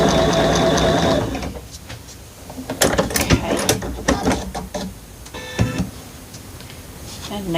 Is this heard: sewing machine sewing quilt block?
yes